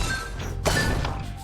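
Fireball power-up in the marble-shooter game Zuma Deluxe, a sharp shattering crash about midway over a steady bed of game music and effects, brief and loud.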